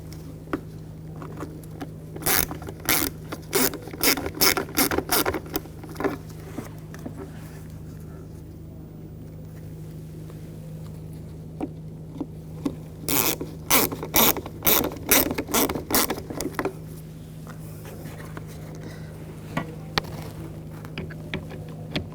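Two quick bursts of rapid ratchet clicking as screws are driven into the HID ballast control module on the headlight of a 2000-2006 BMW X5, crisp and close over a low steady hum, with quiet handling noise between bursts.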